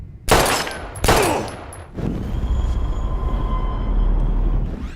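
Two loud, sharp gunshots from the video game Life is Strange crack out close together near the start, followed by a steady low rumbling background that continues to the end.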